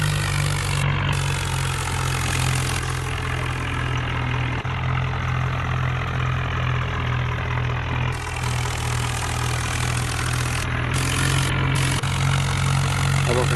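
A tractor hauling a heavy load of sugarcane on a road runs with a steady low engine drone that holds constant throughout, loud and close, with no talk over it.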